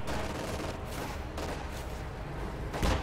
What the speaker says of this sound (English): this is an anti-infantry strafe